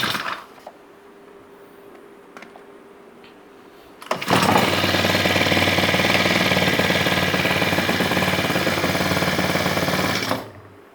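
A 35cc four-stroke brush cutter engine, running on choke-off, fires up after a quiet stretch and settles into a loud, steady close-range drone with a buzzing rattle, then cuts out near the end.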